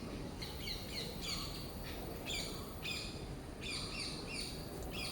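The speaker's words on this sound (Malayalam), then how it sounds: "രാവിലെ നല്ല കിളികളുടെ സൗണ്ടൊക്കെ കേൾക്കുന്നുണ്ട് കേട്ടോ കൂട്ടുകാരെ" Morning birds sing near a rubber plantation, a run of repeated bright chirping phrases heard at a moderate distance over a steady hiss of background noise, with no voices.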